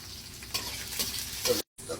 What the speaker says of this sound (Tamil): ஓகே, கொஞ்சம் கிண்டிடணும், நல்லா கிண்டணும்.